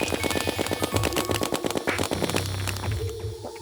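A snowball cannon in Terraria fires a rapid, steady string of punchy shots, loud and close, before trailing off into other game effects.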